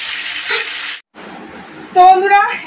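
Ground spice paste and garlic sizzle in hot oil in a pan, a loud close hiss that briefly cuts out and then resumes as a voice speaks over it.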